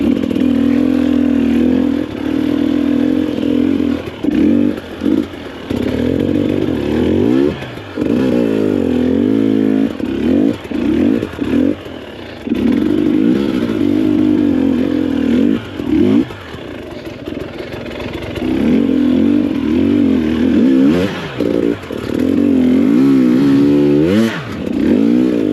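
A motorcycle engine revs hard and continuously, rising and falling with wavering pitch and some clattering as its clutch fails, loud and close with no talk.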